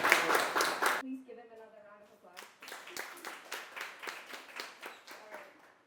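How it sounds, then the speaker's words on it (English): Audience applause for the winner of a university Gavel Club speech competition, a quick burst of clapping that breaks off for a moment of voice, then resumes as a light, scattered round of claps. "Please give him another round of applause"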